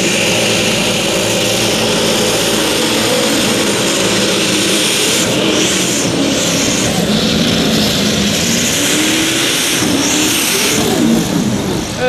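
A Ford tractor in a 2014 tractor pulling competition roars at full load, a loud, continuous, straining engine note with rising and falling pitch, under an announcer's voice.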